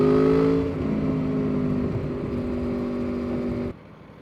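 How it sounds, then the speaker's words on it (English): An Aprilia Tuono V4 Factory motorcycle engine revs loud and close while riding, its steady humming drone holding with a slight pitch shift before cutting off sharply near the end. "enjoy the beautiful engine noise, especially when you come across a tunnel or anything"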